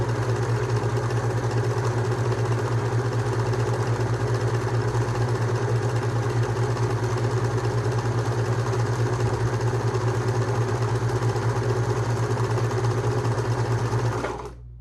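A Husqvarna Viking 190 sewing machine runs steadily through straight stitches, a loud, close, continuous mechanical hum and rapid needle chatter that holds evenly for about fourteen seconds before stopping abruptly.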